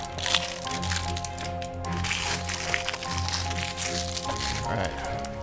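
Stiff plastic packaging crackles and crinkles as it is pulled away from a Batman Begins quarter-scale action figure, giving close, irregular crunches and snaps that go on throughout.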